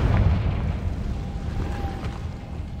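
In Hogwarts Legacy, a Confringo fire spell explodes with a heavy boom at the start, then trails into a low, decaying rumble with faint magical tones.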